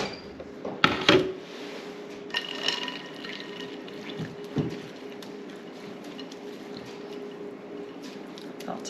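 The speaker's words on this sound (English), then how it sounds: "Then we're going to strain our buttermilk through this nylon" Homemade cultured buttermilk poured through a nylon strainer, a soft trickling and dripping with a few louder splashes and clatters early on, close and quiet, with no talk.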